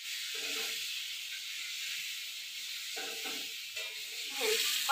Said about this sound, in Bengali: হলুদ আর লবণ এই তেলের মধ্যে দিয়ে দেব।